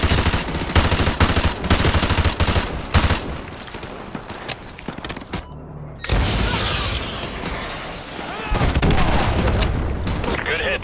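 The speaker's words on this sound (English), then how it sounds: "AGM missile is online." Heavy explosions and sustained gunfire from an AGM missile strike in the video game Call of Duty: Modern Warfare 2 Remastered, loud booms rolling under dense automatic fire with brief radio chatter.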